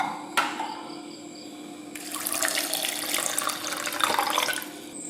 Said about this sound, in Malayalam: ഇതിലേക്ക് കുറച്ച് വെള്ളം ഒഴിച്ച് ഇതൊന്ന് അടിച്ചെടുക്കാം